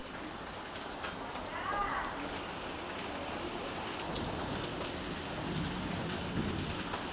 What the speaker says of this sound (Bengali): দেখো কত বৃষ্টি নেমে গেছে